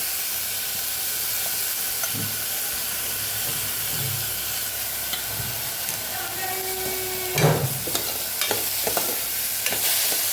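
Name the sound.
stirring lentils with onions in pressure cooker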